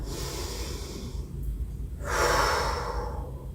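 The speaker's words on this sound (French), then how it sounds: "On fait 3 grandes respirations en inspirant par le nez et on expire par la bouche" Deep yoga breath drawn in through the nose and released out through the mouth during a vinyasa session, a soft inhale followed by a louder, airy exhale, heard alone.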